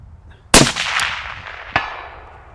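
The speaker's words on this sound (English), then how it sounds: "So first shot on the big target, hit it, not a problem." A 6.5 Creedmoor rifle shot followed by a bullet striking a large steel target, a sharp crack, a ringing metallic clang soon after, then a second fainter impact, each with a fading ring.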